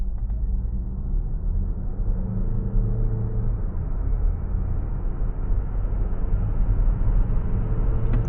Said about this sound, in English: I'm gonna floor it, brake, gas, and let go.